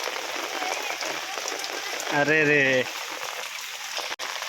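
Steady heavy rain hisses throughout in a village, with a person's brief exclaimed voice rising over it midway.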